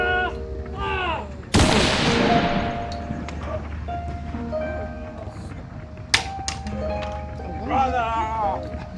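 A musket volley in a Thirty Years War setting crashes out as a single loud, near blast and trails off into a long rumble, with shouting voices before and after it and a few sharper cracks later.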